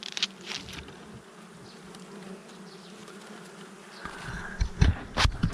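Bees buzz around a nest as its honey is harvested outdoors, a steady close hum with individual insects droning past the microphone and louder buzzes near the end.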